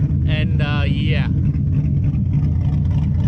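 A car exhaust with American Racing headers, an X-pipe and an SLP Loudmouth system holds a loud, deep, steady rumble close by, with a short voice rising over it near the start.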